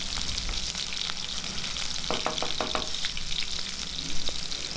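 Shallots and fat red chillies sautéing in hot oil for a bitter gourd curry, giving a steady, close sizzle throughout with a brief cluster of clinking stirring knocks midway.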